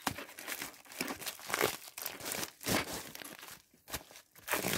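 A bubble-envelope package from AliExpress is torn open by hand, with continuous loud, close crinkling and tearing of plastic in uneven bursts and no talking.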